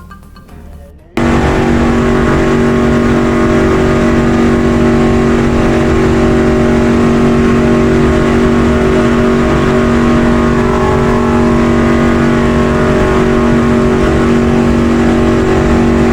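A NASCAR stock car accelerating on the Daytona superspeedway: after a second of near quiet, a loud, close engine roar kicks in and holds a steady, high-revving drone for the rest of the clip.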